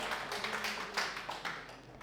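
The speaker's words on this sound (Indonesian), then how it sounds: "Beri tepuk tangan dulu untuk Kohari" Scattered hand claps from a small church congregation at a sermon, a soft, sparse patter of several people clapping briefly at moderate distance.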